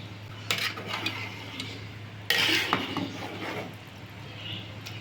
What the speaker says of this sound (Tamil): இப்போ வந்து நல்லா உடையாமல் கிண்டணும்